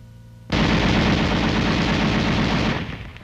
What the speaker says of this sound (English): The gun continues to fire as long as the trigger is depressed.